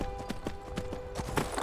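Horse hooves clip-clop in a steady walking rhythm in the Skyrim video game, with about ten evenly spaced, fairly close hoof falls over a low steady game background and no speech.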